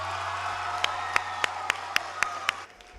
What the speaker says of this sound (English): can we give that extraordinary school leader / principal, Alicia Conner, a big round of applause?